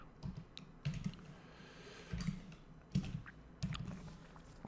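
Typing on a computer keyboard: soft, close key clicks arrive in small clusters roughly every second, quiet and without talk.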